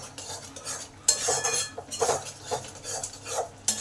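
A spatula clinks and scrapes against a pan as ridge gourd curry is stirred to dry off its water, giving repeated close metallic knocks over a faint sizzle.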